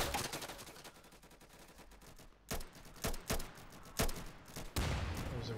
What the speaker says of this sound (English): Someone shooting at me?